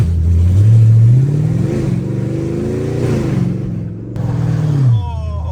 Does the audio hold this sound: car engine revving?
yes